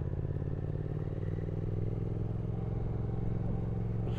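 Triumph Speed Twin motorcycle on a ride, with a steady low engine drone and wind rumble running continuously and evenly, fairly close, without any talking.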